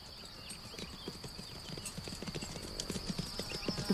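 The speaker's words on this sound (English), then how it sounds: "How the big horse walked, then trotted round the circuit" Radio drama effect of a big racehorse on a circuit: hooves clip-clop at a walk and then quicken into a trot, growing steadily louder and closer, with a faint high tone running throughout.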